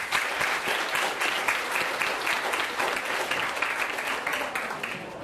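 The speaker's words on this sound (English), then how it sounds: "A nice round of applause for them." Sustained audience applause at a high school fall sports banquet for volleyball and cross country, dense steady clapping from a sizable crowd lasting several seconds without a break.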